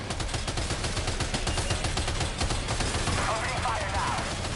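Rapid gunfire in Death Stranding 2 on the beach runs as a dense, continuous burst of shots throughout, loud and sustained, with some speech mixed in.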